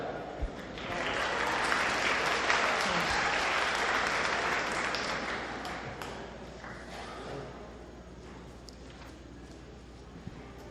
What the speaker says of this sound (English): Everybody clap for Alec.